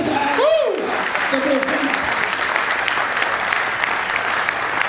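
Loud, steady applause from a crowd at a live comedy and poetry show in Mumbai, with a brief voice cutting in near the start as the clapping carries on.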